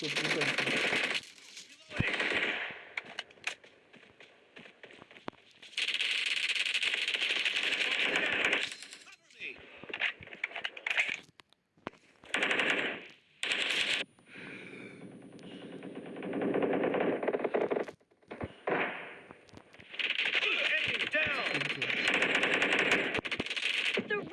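Automatic gunfire from the battle-royale game PUBG, played in Arena mode, rattles in long, repeated bursts with short gaps between them, and a voice is heard at times.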